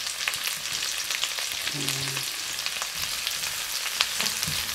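Onion and celery fry in a wok for a pork belly dish, making a close, continuous crackling sizzle dotted with sharp pops and brief clanks, with no talking.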